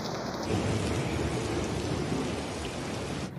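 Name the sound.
rain falling outside a flooded station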